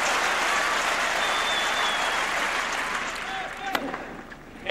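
Crowd applause fills a tennis stadium after Federer serves an ace in the 2006 Roland Garros final against Nadal, a loud, sustained ovation that slowly fades near the end.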